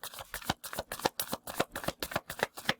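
Playing cards are riffled and shuffled in a quick, steady flutter of crisp snaps, close and clear, continuing until a card pops out.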